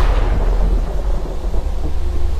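Thunder rumbles loud and low right after a lightning flash, a continuous heavy roll with rain in the background, without any speech.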